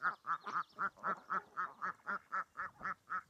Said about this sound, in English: The girls are just starting to quack